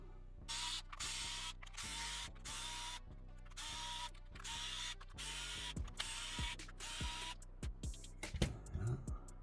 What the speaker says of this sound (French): Alors on va dévisser tout ça.